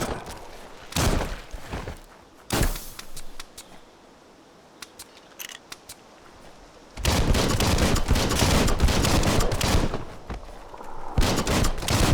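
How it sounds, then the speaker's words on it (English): Loud bursts of gunfire in the action video game Biomutant, with dense rapid volleys at the start and a long sustained barrage in the second half, separated by a quieter stretch of scattered single cracks. "Bullets everywhere."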